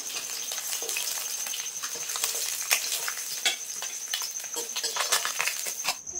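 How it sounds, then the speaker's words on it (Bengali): Folui fish frying in oil in a pan for a mustard-poppy seed fish curry, a steady crackling sizzle with scattered sharp pops and spatters throughout, close and fairly loud, with no talking. "এই মাছগুলো কিন্তু আমি লাল লাল করে ভেজে নিয়েছি। এবার তুলে নেবো।"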